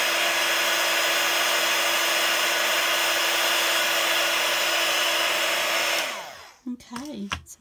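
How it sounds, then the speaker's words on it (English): A heat gun runs for heat embossing on a metal-framed round craft tag. It gives a loud, steady whirring blast close to the mic for about six seconds, then cuts off, and faint handling sounds follow. "You do have to be incredibly careful with that heat gun because it does put out"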